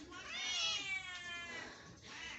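A big orange rescued cat lets out a long, drawn-out meow, near and fairly loud, with a shorter meow at the end.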